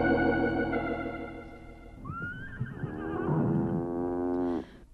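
A horse in a barn gives a long, loud whinny that rises, wavers and falls away, close and clear against a faint background.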